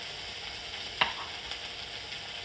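Chickpeas are added and stirred into a hot pan while frying for thukpa, with a steady close sizzle and one brief sharp clink of the utensil partway through.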